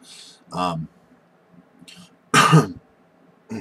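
Two short, harsh coughs or throat-clearing bursts, close to the microphone, separated by a quiet pause with faint background noise.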